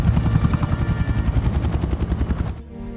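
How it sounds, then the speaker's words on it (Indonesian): A helicopter passes over a forest, its loud rotor chop pulsing steadily with a dense, throbbing thump for about two and a half seconds before it cuts off abruptly into quiet. "Di langit, sebuah helikopter sedang terbang di atas hutan."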